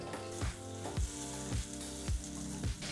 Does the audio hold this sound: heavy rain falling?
no